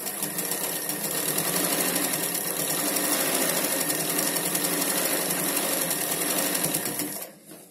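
A sewing machine stitches around a Panjabi dress pant in one long, steady, close run with a fast buzzing rhythm, stopping abruptly just before the end.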